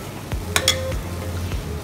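A hot tempering is stirred into Indian kadhi. Its steady frying sizzle runs throughout, with a few soft clinks of the spoon against the pot close by and no talking.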